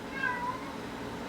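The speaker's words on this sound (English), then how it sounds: "And that's my cat." A single soft, drawn-out meow from a house cat, faint against quiet room hum.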